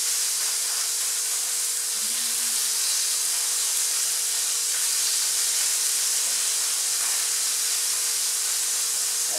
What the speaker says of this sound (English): I'm going to move my brown sausages and put them into the pan